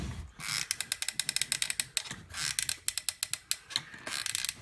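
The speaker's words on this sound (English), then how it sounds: "I'm just putting a bead of glue around." A hot glue gun's trigger ratchets in rapid bursts of sharp clicks while a bead of glue is run around a dagger pommel, close and fairly loud with no talking.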